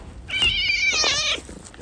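A cat meows loudly and close by, one drawn-out, wavering call of about a second, with quiet room noise before and after.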